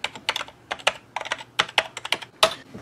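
Keys on a Tandy WP-2 retro computer keyboard are typed in quick, uneven bursts with short pauses. The clicks are close and crisp, and no one speaks.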